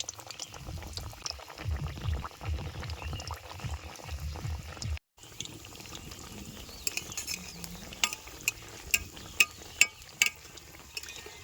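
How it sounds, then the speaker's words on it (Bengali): Raw potato chops fry in oil over a low flame, a soft steady sizzle and bubbling with a brief cut partway through, later joined by scattered sharp clicks and pops. "উনানের আঁচটা কম রেখে আলুর চপগুলো প্রায় তিন থেকে চার মিনিট ভালো মতো বাজিয়ে নিছি"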